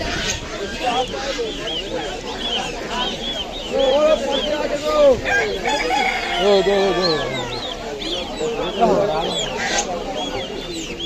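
Chickens clucking and a rooster crowing at the Basanti poultry market, a busy chorus of fowl calls with people talking over the crowded scene.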